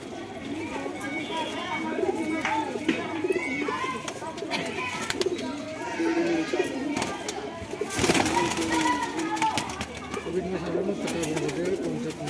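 Desi, Madrasi and Punjabi pigeons at a sale cooing and rustling together, a continuous busy murmur of throaty calls with some wing movement, under someone talking throughout.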